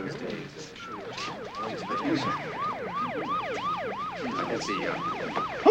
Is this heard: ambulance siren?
yes